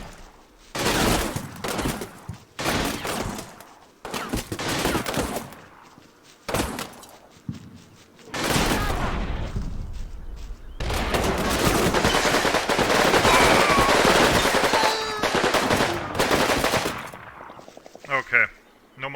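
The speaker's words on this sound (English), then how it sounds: "An assault team with submachine guns and a carbine is going in." Submachine guns and a carbine fire in bursts during an assault in the Combat Mission WWII wargame, with loud rapid automatic volleys and single shots, short pauses between them, then a long sustained barrage, no talking.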